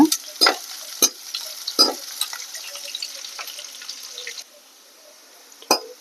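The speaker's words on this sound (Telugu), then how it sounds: "ఈ ఎర్రగడ్డలు వేగేటప్పుడు ఈ జీలకర్ర ఉంది కదా, ఈ జీలకర్ర కూడా వేసుకోవాలి." Onions and cumin seeds hiss softly in hot oil in a pan, with sharp scraping stirs and clinks of a utensil against the pan standing out, then a quieter sizzle near the end.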